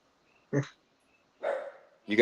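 A puppy barks in short yips, three separate bursts spaced across a couple of seconds, close by and fairly clear, with a voice nearby in the background.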